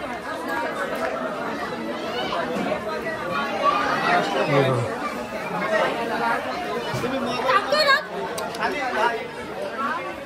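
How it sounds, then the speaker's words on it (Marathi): Dense crowd of devotees chattering at Ekvira temple at night, many overlapping voices forming a steady, close babble that swells briefly near the end. "गर्दी बघा किती आहे"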